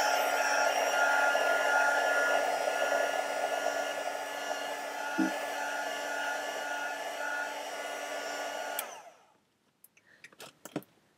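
A hair dryer blows steadily at close range for about nine seconds to dry a page, then cuts off, leaving a few faint handling clicks and knocks.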